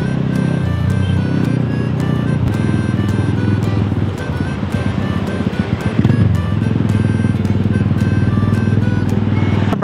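A motorcycle rides along a nearly empty street at Kuta, Bali, its engine a steady close drone with a brief dip and swell midway, while wind and road noise run underneath.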